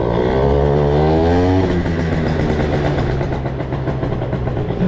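A dragster engine idles at low revs, a loud, close, lumpy burble with a rev-like rise early on, then an uneven putter that runs steadily through the rest of the clip.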